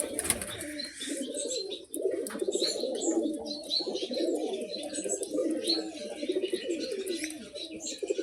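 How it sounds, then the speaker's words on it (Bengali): Pigeons coo in a steady, throaty stream, close and fairly loud, with faint chirps and chatter from other birds behind them. "হচ্ছে পায়রা।"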